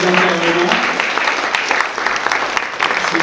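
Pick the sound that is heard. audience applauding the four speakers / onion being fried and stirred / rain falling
audience applauding the four speakers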